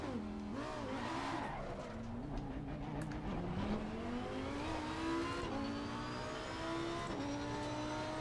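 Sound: Lamborghini engine revving in racing simulator video game

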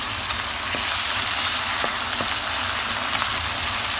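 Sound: diced tomatoes frying in a pan

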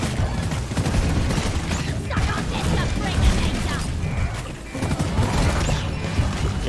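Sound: Lead Storm minigun firing in the video game Deep Rock Galactic

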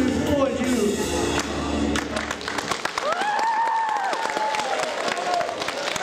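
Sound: audience applause after a live song

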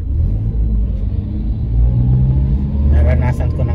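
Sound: car traffic on a congested road

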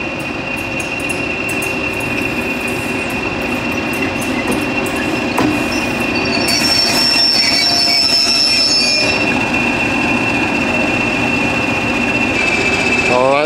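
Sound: freight train stopping, wheels squealing

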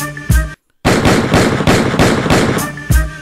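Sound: gunshot sound effects in a hip-hop track

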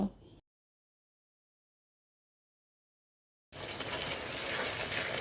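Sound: ground masala paste sautéing with fried onions in pan

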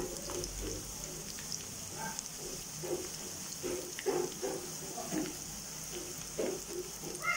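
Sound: onions sautéing in oil in a pan

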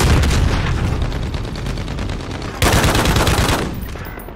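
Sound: light machine gun firing in Call of Duty video game

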